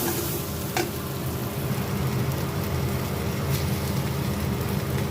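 Small fish frying in a kadai, a steady close sizzle with soft stirring and scraping, no voices.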